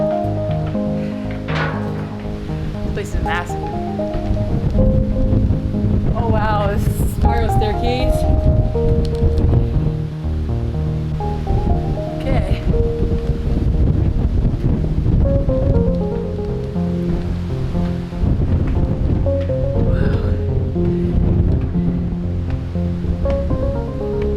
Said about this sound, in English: Ooh, it's so windy.